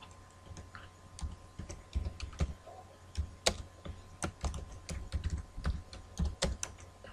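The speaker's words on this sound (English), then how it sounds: "So if I should come here now and start typing" Someone types on a computer keyboard while entering text into a spreadsheet, a steady run of quick, close keystroke clicks in irregular bursts, with no one talking.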